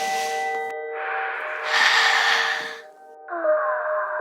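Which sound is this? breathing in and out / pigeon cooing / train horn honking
breathing in and out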